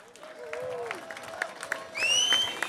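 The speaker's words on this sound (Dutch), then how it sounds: "Applaus" An audience at the Parksjtad Leedjes Konkoer song contest claps in a fairly quiet, scattered burst, with tonal whistles or cheers rising near the end over the clapping.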